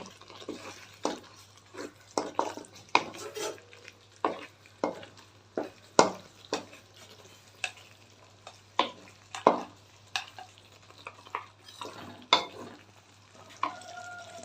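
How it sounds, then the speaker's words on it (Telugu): Okra (bendakaya) is stirred and fried in a pan, with a steady series of spoon scrapes and clatters over a soft sizzle, close and fairly loud, with no voices. "బెండకాయలు వేసుకొని కొంచెం మంచిగా కలుపుకుందాం"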